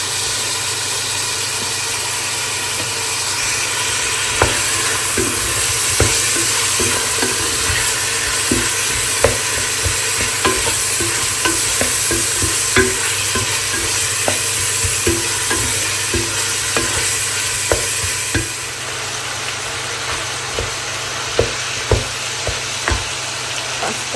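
Chopped onion and sausage frying in a pan with ginger-garlic paste, a loud, constant sizzle and hiss with many small clicks and taps of stirring throughout, easing slightly near the end.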